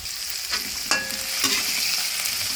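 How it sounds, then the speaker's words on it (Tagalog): Shrimp heads fry in hot oil while a ladle stirs them, giving a steady close sizzle broken by a few sharp scraping clinks of metal against the pan. "Antayin-tayin lang natin maluto yung ating ulo ng hipon"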